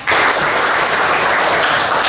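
A group claps hands in an Indonesian classroom clapping game, a burst of dense, close clapping that holds steady for about two seconds with no talk over it.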